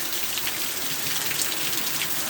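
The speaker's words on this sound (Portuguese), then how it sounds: "Que vai a chuva aqui em Perunzinho, olha que coisa linda." Steady rain falling on a house backyard with a mango tree in Piloezinhos, a dense continuous hiss of drops on surfaces, close and even throughout with no voices.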